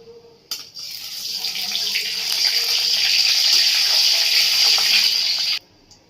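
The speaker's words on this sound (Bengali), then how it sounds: "ফোড়নটা ভালো করে ভাজা হয়ে গেছে" Panch phoron and asafoetida sizzle in hot oil, a loud, steady, hissing crackle that starts abruptly, holds for several seconds and cuts off sharply.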